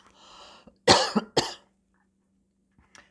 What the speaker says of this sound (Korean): 마른 기침이 좀 많이 나죠